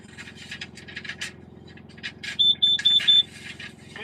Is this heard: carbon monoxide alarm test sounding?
yes